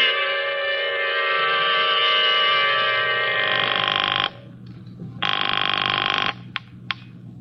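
An old-style telephone bell rings steadily and loudly indoors for several seconds, stops, then gives a shorter burst and a couple of brief clipped rings.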